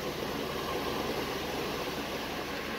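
A Mercedes car engine idles steadily with the automatic gearbox in Park, a constant low hum with broadband noise and no other sounds, close and even throughout.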